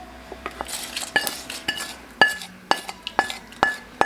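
A spoon stirs pumpkin buttermilk curry in a metal pot, giving sharp intermittent clinks and scrapes against the rim at an uneven rhythm, close and fairly loud, with no talking.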